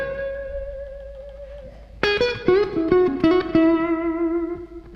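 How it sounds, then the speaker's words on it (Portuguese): Music played with a reverb effect adding room ambience: sustained notes, then a burst of struck or plucked tones whose ringing tails hang and overlap, fairly loud and close. "se eu ligar um reverb com uma certa ambiência"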